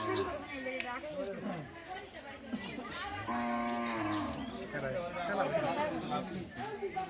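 Cattle and buffalo at a Qurbani Eid sacrifice low with drawn-out moos among nearby animals, heard under fairly constant human chatter and talking.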